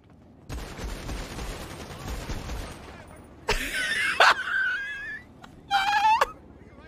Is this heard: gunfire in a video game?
yes